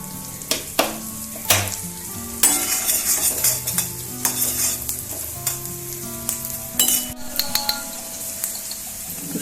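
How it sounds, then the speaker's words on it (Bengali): Food frying in a pan after the heat is turned up, with continuous sizzling broken by repeated stirring scrapes and clinks of utensil against pan, close and fairly loud, no voices. "একটু 2-3 মিনিট ফ্রাই করে নেবো হালকা।"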